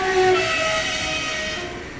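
A train passes nearby with a loud, steady rumble and a sustained tonal whine or horn-like drone that fades slightly over two seconds. No one speaks.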